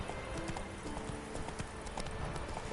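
A horse's hooves clip-clop at a steady trot in The Witcher 3, an even rhythmic patter of close, clear hoofbeats over a faint background hum.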